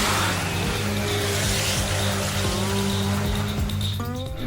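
A diesel dragster engine roars loudly and continuously close by, its revs climbing and falling with a rough harmonic drone, rising sharply in pitch at the very end.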